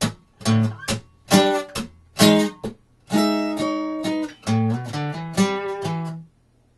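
A close acoustic-sounding guitar plays the opening of a song slowly, with separate plucked chords and notes in a halting rhythm, then a longer run of faster picked notes, alone with no voice.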